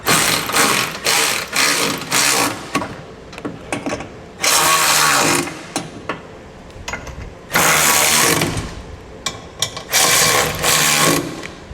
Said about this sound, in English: we can come back with a 9/16 socket and just snug all the hardware up